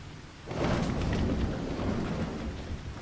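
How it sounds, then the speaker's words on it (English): Thunderstorm with heavy rain in Farming Simulator 25: a rumble of thunder rolls in under a dense, steady hiss of falling rain that swells after the first half second and stays loud. "now that it's raining"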